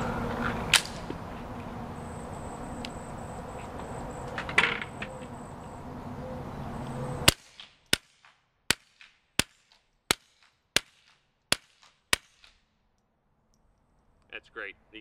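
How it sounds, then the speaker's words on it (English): A Ruger fires through an SWR Spectre 2 suppressor, about seven sharp, evenly spaced muffled reports, each followed by faint action cycling and rounds hitting the berm, coming after a stretch of outdoor background noise. "You can hear the action working. You can hear the rounds impacting the berm."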